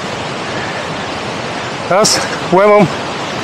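Rushing water from a turbulent river near the 85-metre Boka waterfall roars in a steady, broadband wash, while someone speaks briefly over it.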